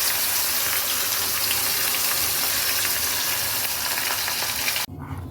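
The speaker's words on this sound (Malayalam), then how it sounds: "പരിപ്പ് മിശ്രിതം ഒഴിച്ച് ഒരല്പം വെള്ളം കൂടി ഞാൻ ഒഴിച്ചിരുന്നു" Lentil paste mixture and a splash of water hit a hot pan, a loud, close, steady sizzle and gushing hiss that cuts off abruptly near the end, leaving a quieter bubbling.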